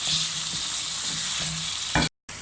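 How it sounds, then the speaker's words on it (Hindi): Whole spices, including star anise, curry leaves, black peppercorns and cumin seeds, roast in hot oil for vegetable biryani, giving a bright continuous sizzle with a few stirring knocks, then a brief cut to silence before the sizzle resumes. "बादियान का फूल, कड़ी पत्ता और काली मिर्चें, साबुत ज़ीरा, ये हम साथ ही ऐड कर रहे हैं इसके अंदर, और इसको अच्छे तरीके से हम अब भूनेंगे।"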